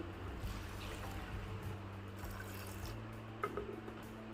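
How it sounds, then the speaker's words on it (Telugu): Cold water poured into a blender jar holding sugarcane pieces for juice, a soft steady trickling fill at low level, with a faint hum underneath and a few small knocks near the end. "కొన్ని కూలింగ్ వాటర్ని పోసుకోవాలి"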